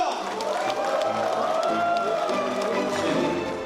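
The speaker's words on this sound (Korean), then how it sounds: "우리 당 대표자 여러분께 뜨거운 성원의 박수 부탁드립니다." Audience applause and cheering at a party delegates' convention and joint leadership-candidate rally in Incheon, a steady, dense crowd roar with indistinct voices mixed through it for the whole stretch.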